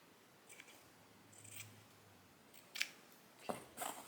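Scissors trim fabric for a slow-stitched mini landscape, a few soft close snips spaced across a quiet stretch with no talk.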